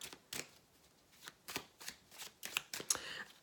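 Tarot cards being shuffled close up, a series of quick papery riffles and soft slaps repeating in uneven bursts, quiet and alone.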